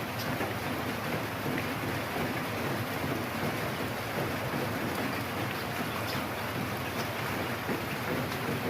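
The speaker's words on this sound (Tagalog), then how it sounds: "Alam mo nyo guys, lumalakas ang ulan." Heavy typhoon rain in the Philippines pours in a dense, steady hiss mixed with wind rumble, loud and unbroken across the whole stretch, with no voices.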